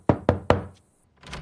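Three sharp knocks land in quick, even succession on a motel room door, loud and close, followed by a short pause and a faint rustling sound.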